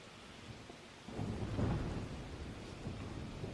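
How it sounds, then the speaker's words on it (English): Rain and deep rolling thunder from a Super Smash Bros. Ultimate trailer's rainy castle scene; a soft hiss of rain gives way to a loud, sustained rumble that swells and lingers. "It's like a rainy castle."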